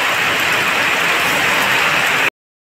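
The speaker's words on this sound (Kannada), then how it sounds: "ಸಿಕ್ಕಾಪಟ್ಟೆ ಮಳೆ ಇದೆ." Heavy rain falls outside, a dense and continuous loud hiss that stays even throughout, then cuts off abruptly.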